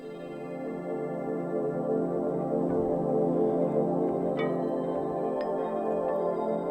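Ambient synth patches from a Waldorf Iridium and a Korg Wavestate layered together into a dense, sustained droning pad, with a few bright sparkling accents glinting on top at a steady moderate level.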